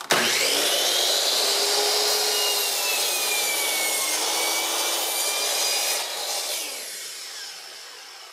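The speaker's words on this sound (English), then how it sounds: "Let me cut down the board here and then I'll get back." A wooden board being cut down to size for a DIY hat rack, a continuous loud whining power-saw rasp through the wood that holds steady for several seconds before tapering off near the end.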